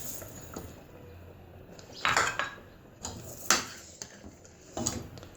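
Sugar being added to thickened milk in a pot for sheer khurma: scattered metallic clinks and scrapes of a spoon against the pot, several sharp taps among quieter rustling.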